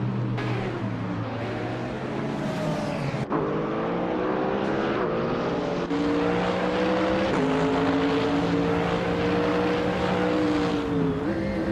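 A 2005 Radical SR3 race car, light and agile, in a racing video game: a loud, continuous engine drone that rises and shifts pitch through gear changes, with one sharp break in the tone, and no voices.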